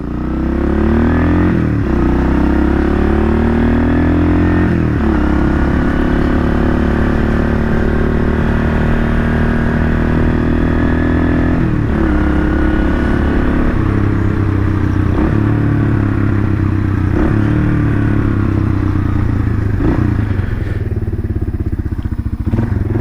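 A rebuilt 1978 Kawasaki KL 250 motorcycle ridden with its engine running loud and close, rising and falling through repeated revs and gear changes, with steady rumble and occasional thumps.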